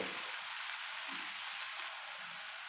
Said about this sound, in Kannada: ಟೊಮೊಟೊ ಜೊತೆ ಹಸಿರು ಮೆಣಸಿನ್ಕಾಯಿ ಕೂಡ ಹಾಕೋತೀನಿ ನಾನು ಒಟ್ಟಿಗೆ ಇಲ್ಲಿ ಕ್ಲೀನಾಗಿ ಫ್ರೈ ಮಾಡ್ಕೊಳ್ಳಿ